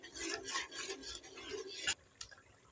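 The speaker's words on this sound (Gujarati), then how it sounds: "લીંબુનો રસ એડ કરતી વખતે એને આપણે સતત હલાવતું રહેવાનું છે" A spoon stirs Kathiyawadi garlic potato masala in a pan right after lemon juice goes in, making a soft, rhythmic scraping and swishing in quick repeated strokes that stop after about two seconds, with one last light tap.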